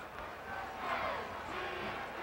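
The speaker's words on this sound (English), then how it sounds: "there's a buzz, of course, in this crowd" Steady crowd buzz fills a stadium in Lexington during a Kentucky vs Tennessee college football game, a dense, continuous murmur of voices that swells slightly midway, heard alone without close talk.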